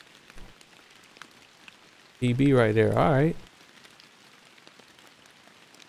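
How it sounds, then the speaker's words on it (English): Steady rain patters softly across the whole stretch in the Fishing Planet video game at 2 a.m., a faint continuous hiss beneath a brief burst of talk in the middle. "And it's raining now at 2 a.m."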